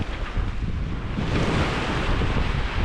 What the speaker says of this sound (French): le Mistral est encore présent